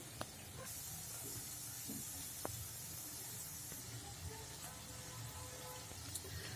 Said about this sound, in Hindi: पलट पलट कर इनको हम गोल्डन ब्राउन कलर आने तक फ्राई कर लेंगे